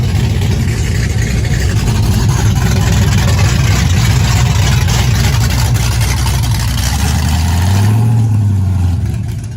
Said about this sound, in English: That has a nice sound to that truck, don't it?